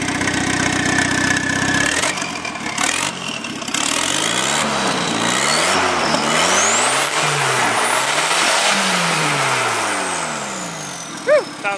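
A swapped V8 engine running in a vehicle, loud and close, idling and then revving repeatedly in rising and falling sweeps as the throttle is blipped, with a steady whine over the engine note.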